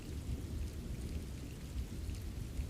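Steady, soothing rainstorm with thunder: a dense, continuous hiss of rainfall over a deep low rumble, even and unbroken throughout with no voices.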